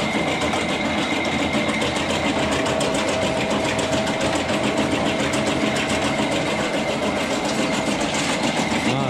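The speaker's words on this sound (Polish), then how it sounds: "Jak się maszyna rozpędzi." A grain cleaning machine runs up to speed with a loud, continuous mechanical whir and a fast rhythmic clatter, steady and close throughout.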